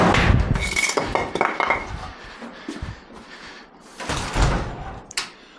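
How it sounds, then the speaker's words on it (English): A shed door is pushed shut amid a string of clattering knocks and rattles, with a sharp slam and a final metallic clink near the end, all close and loud. "Close the door."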